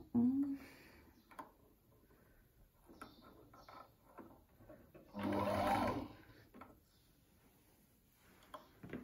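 A Husqvarna 230 electronic sewing machine runs in one short burst of about a second near the middle, between quieter stretches with faint handling noises and a voice talking.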